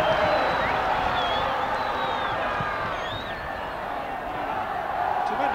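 A rugby league crowd at the Boulevard in Hull, cheering and singing during a 1982 match against the Kangaroos, a broad sustained roar of many voices with melodic chanting rising above, steady throughout at moderate distance.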